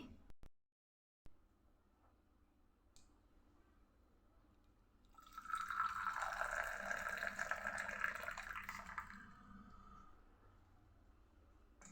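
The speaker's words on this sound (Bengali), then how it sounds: "এবার একটা কাপে আমি চাটা ঢেলে দেখাই" Freshly made tea poured into a cup, a soft liquid stream rising and fading over a few seconds amid quiet surroundings, faint and close.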